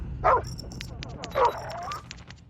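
A dog in the Call of Duty Mobile video game gives two short sharp barks about a second apart, over game background noise and faint clicks.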